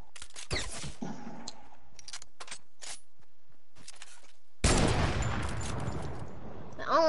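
Gunfire in the video game Fortnite, heard as scattered sharp shots and short bursts, then a loud sustained stretch of rapid fire near the end, with faint voices in places.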